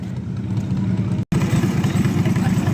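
A lawn tractor engine runs at an antique power show's lawn tractor pull, a loud close mid-pitched throbbing idle that carries on steadily, cut by one brief dropout, with some voices in the background.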